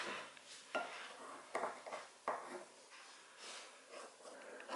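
Pressed makeup paste being scooped and gathered toward the center of its pan, heard as soft, close scraping and smearing strokes that come in several short, quiet bursts with no talking.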